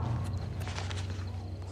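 Horse hooves clip-clop at a steady walking pace in Oblivion Remastered, set in a foggy, muddy area near an inn, moderately close over a low continuous game ambience.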